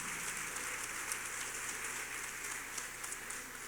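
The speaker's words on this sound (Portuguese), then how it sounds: "Você pode aplaudir o Senhor nessa manhã" A church congregation applauds during a worship service, a steady wash of many hands clapping that sounds like rain, faint and distant throughout with no voices over it.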